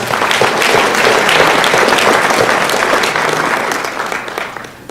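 A hall full of people gives a loud, dense round of applause at a school fall sports awards ceremony, sustained throughout and thinning slightly toward the end.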